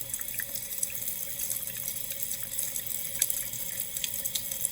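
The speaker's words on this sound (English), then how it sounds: "So I'm going to rinse it with distilled water." Distilled water squirted from a plastic wash bottle to rinse precipitate off a glass stirring rod in a water hardness lab, a close, steady splashing trickle with small drips, faint and continuous.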